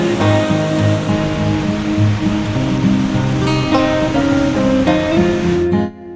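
Athabasca Falls in Jasper, Alberta: a waterfall and river roar through a rock canyon, a dense, loud, unbroken rush of water that stays constant until it cuts off at the end.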